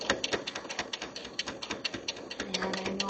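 A domestic sewing machine stitches fabric for a little boy's farmhouse bed, a rapid run of close mechanical clatters with a brief steadier hum near the end.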